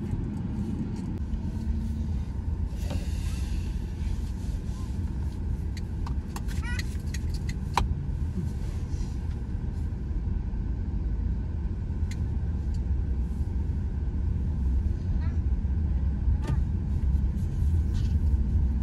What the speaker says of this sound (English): we're going to drive down the slope